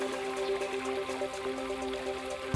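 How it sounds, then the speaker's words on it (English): A landscape water fountain splashes and trickles steadily, a soft continuous patter of falling water heard fairly near, with a faint tonal hum beneath it and no speech. "Fountains,"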